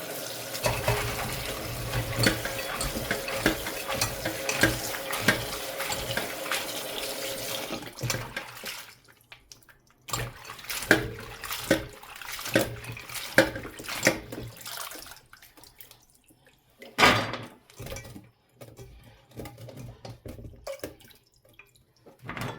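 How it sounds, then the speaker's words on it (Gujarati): Running water splashes steadily for several seconds, then turns intermittent, with bursts of splashing and dripping, as produce is rinsed under a tap. "ઠંડા પાણીથી ધોવાના છે"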